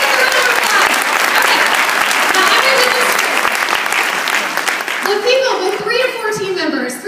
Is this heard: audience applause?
yes